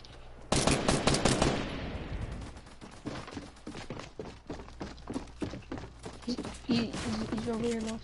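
Rapid automatic gunfire in the Fortnite video game, a dense burst of shots followed by scattered pops and footsteps, with voices talking over the action.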